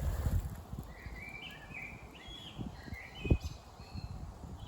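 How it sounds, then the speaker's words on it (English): A thrush sings clear, varied whistled phrases in a windy bluebell wood. The song sounds moderately distant, over a low rumble of wind gusts with an occasional soft thump. "There's that thrush giving out a unique song that I've never heard before"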